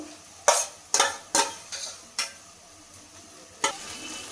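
Ginger garlic paste is stir-fried with browned onions, with a series of sharp spatula scrapes and clacks against the pan, irregular and close, over a soft sizzle between strokes.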